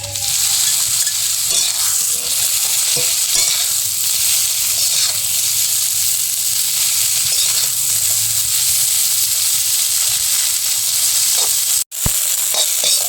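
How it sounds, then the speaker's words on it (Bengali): Semai vermicelli frying in a pan with bay leaf and garam masala, loud continuous sizzle and hiss with occasional scraping stirs, close and steady throughout with no talk. "এবার আমি সামাইগুলো ঢেলে ভেজে নেব।"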